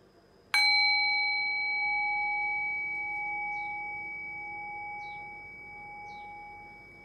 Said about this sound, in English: Allow the decay of the bell to guide your awareness into silence.